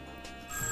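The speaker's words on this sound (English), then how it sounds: "Phone." A telephone rings in a home, heard as a brief electronic ringing tone, moderately loud and close, with no talk over it.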